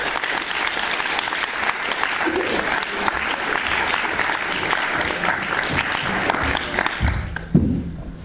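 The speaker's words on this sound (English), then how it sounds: "Not quite enough applause, I would say" A crowd applauds steadily and loudly throughout, dense clapping that fades out abruptly near the end with a brief stray sound.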